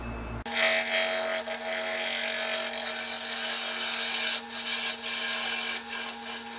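A power tool cuts through a pecan wood bowl, working close to breaking through the wall, with a steady rasping, grinding whine that runs continuously at close range with brief dips in intensity.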